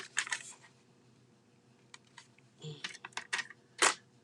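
Paper trimmer or scissors cutting Anna Griffin card paper to four inches, a quick series of crisp slicing and clicking sounds with short pauses between strokes, close and moderately loud.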